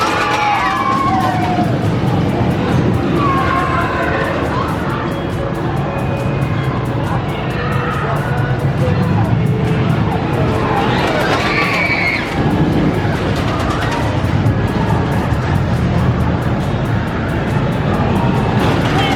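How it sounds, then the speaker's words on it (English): Twisted Cyclone, an RMC hybrid roller coaster at Six Flags Over Georgia, gives a steady loud roar of the train on track with wind rush and shifting rumble throughout, riders' shouts faintly mixed in. "It's time to ride the park's RMC here at Six Flags over Georgia. It is Twisted Cyclone"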